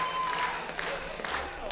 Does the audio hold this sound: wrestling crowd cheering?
yes